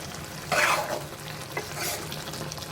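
Tomato curry stirred in a pan over a high flame, watery and bubbling, makes a steady sizzle with a couple of louder scraping stirs. No one speaks.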